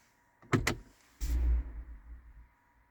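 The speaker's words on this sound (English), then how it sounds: "Glove box drop. Hope your glove box drops like this." A BMW glovebox lid unlatches with two quick clicks, then swings down slowly with a soft damped whoosh and a low thud that fades out. The sound is close and quiet, with no talking.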